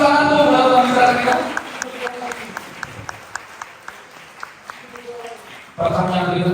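Scattered handclaps from an audience at a Vesak Festival talk show, a handful of sparse, separate claps heard under and between talking voices, which return loudly at the very end.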